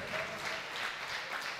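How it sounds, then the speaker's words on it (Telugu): Clapping from a church congregation during a sermon, a quiet, fairly even patter of many hands lasting under two seconds with no voice over it. "కొట్టు చప్పట్లు గట్టి కొట్టు"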